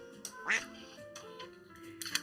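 A single sharp duck quack sound effect rises once, moderately loud, over a faint steady electronic tone and quiet room background, with brief clicks near the end.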